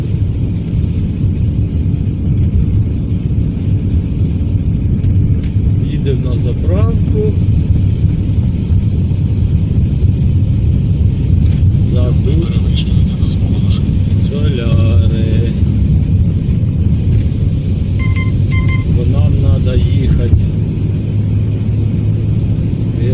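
A car drives along a road toward a petrol station, with a steady low cabin rumble and road noise throughout and faint brief sounds over it.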